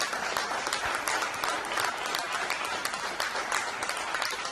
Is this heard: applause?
yes